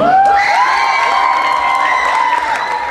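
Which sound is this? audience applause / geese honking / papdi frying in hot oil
audience applause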